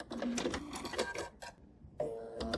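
A sewing machine stitches binding onto a potholder, running in a fast, steady rattle for over a second, pausing briefly, then starting again close by.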